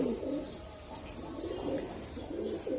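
Kaldom pigeons coo steadily in a loft, low rolling calls repeating in overlapping waves close to the microphone, with no talking.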